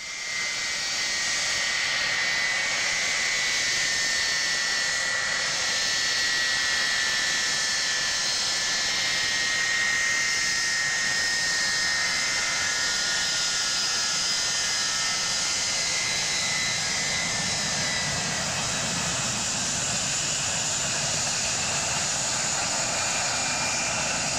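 An aircraft takes off down the runway at Wellesbourne, a loud and steady engine roar holding for the whole stretch with high whining tones above it and no voices.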